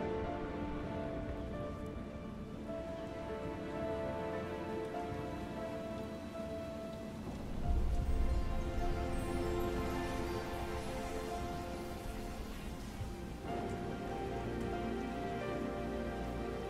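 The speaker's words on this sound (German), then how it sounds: "Demzufolge auch Regen." Steady rain falls throughout a scene in the video game Shadow Warrior, a dense even hiss with game music or ambience beneath and a brief low swell midway.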